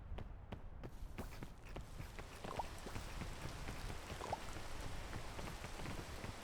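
Rain falling in a mountain-climbing video game, a steady, even hiss of drops with faint scattered taps, heard at low volume throughout with no talk.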